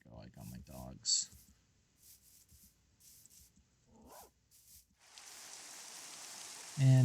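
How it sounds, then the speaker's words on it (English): Steady broadband hiss of Minecraft rain sets in midway and continues to the end, following earlier speech and a few soft in-game dog barks, with a louder thump at the close. "And it's raining."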